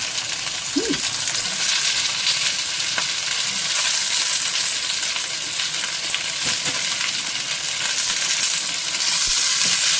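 Capsicum and tomato, seeds removed, frying in a pan for vegetarian malai paneer: a steady, close sizzle fills the whole stretch with light stirring scrapes now and then, and no one speaks.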